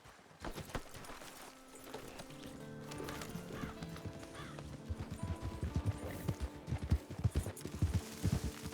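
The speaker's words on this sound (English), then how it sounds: "Get on your horse." Horses being ridden clip-clop with irregular hoof strikes that grow louder and more frequent toward the end, with a whinny and faint voices underneath.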